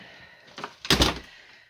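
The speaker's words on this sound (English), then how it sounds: "I gotta shut their door so Violet doesn't go in there." An interior door is pushed shut at home, a brief soft swish followed by a single firm thunk as it closes, heard nearby in a quiet room.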